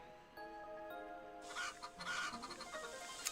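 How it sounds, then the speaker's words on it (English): Chickens cluck and squawk in a busy, agitated burst inside Alundra on PlayStation, rising over a soft looping tune, near and fairly loud. "those chickens go nuts when they see me"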